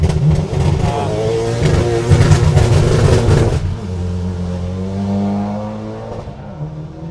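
A Mitsubishi Evo 3 rally car on a forest rally sprint stage blasts past close by at full throttle, engine roaring with clattering exhaust, then the sound drops away as it recedes.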